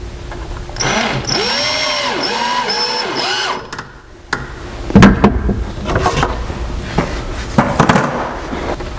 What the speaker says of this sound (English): And just get one screw in the bottom and come up here and get one in the top.